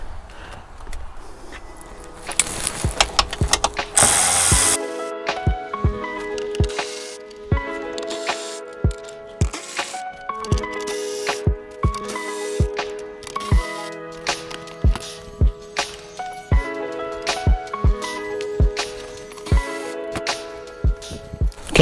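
Sharp repeated ratchet clicks at close range as bolts come out of a Polaris RZR front panel, steady rhythmic bursts over a background of tonal music, preceded by a brief spray-like hiss.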